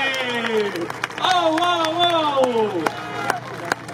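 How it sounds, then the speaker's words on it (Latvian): Crowd clapping and cheering at a motorcycle rally awards ceremony in Jekabpils, moderate applause running beneath a loud voice and background chatter throughout. "Aplausi!"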